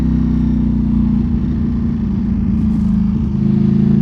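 A superbike engine, a Ducati Panigale V4 or BMW S1000RR, idles loudly and close with a deep, throbbing rumble, rising slightly in a few light revs.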